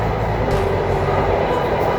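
A metro train rumbles steadily through an underground tunnel, a loud continuous roar filling the station platform with no break across the clip.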